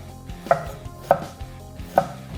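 Knife cutting through radishes on a chopping board, three crisp, evenly spaced chops about half a second apart, close and clear.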